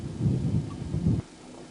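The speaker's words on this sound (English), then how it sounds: "Pouring with rain, blowing about a 25 knot southeaster." Heavy rain driven by a strong 25-knot southeasterly wind on a fishing trip, a loud, dense roar of wind-blown rain with gusty surges that drops off abruptly near the end.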